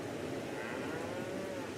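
Cows in Farming Simulator 22 give a single long, low moo on a rainy dairy farm map, close and clear over a soft background hiss.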